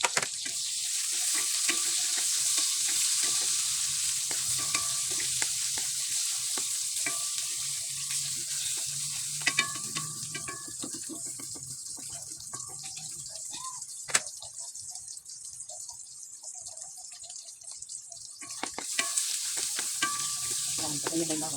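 Onion and garlic sauté in a pan for Kapampangan kilayin, making a steady sizzle with frequent stirring clicks and scrapes that ease slightly partway through.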